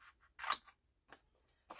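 Scissors cut a paper illustration to size in a few quick, close snips, faint and separated by short silences.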